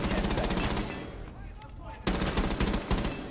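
Rapid automatic gunfire in a video game, loud and close, with dense bursts of shots broken by a brief lull before the firing resumes.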